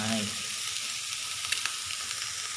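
Crab sticks tossed into egg fried rice sizzling in a hot pan, a steady loud frying hiss throughout with a couple of light stirring clicks near the middle.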